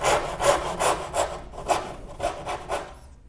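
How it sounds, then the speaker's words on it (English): A hand saw cuts through wood on a Moravian workbench, about eight rhythmic back-and-forth strokes, close and clear, ending in a brief quiet. "With the majority of the waist sawn away, now we can finish up."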